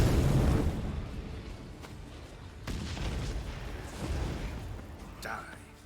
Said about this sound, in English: Let's use all of our bombs,